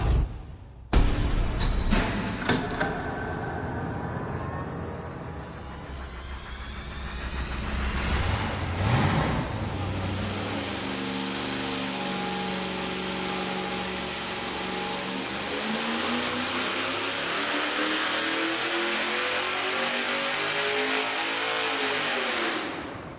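A V8 race engine with a tunnel ram dual-quad intake and small headers is fired up on a dyno, then runs loud and close, revving with rising and falling roar before holding a steady high drone for a long stretch.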